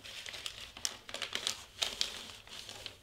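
Wrapping paper being folded and creased around a gift box, a run of crisp crinkles and rustles in short uneven bursts, close and fairly quiet with no talking.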